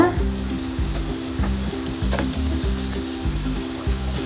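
Chicken samosas frying in hot oil on medium flame, a loud continuous sizzle and bubbling heard up close, with no voices.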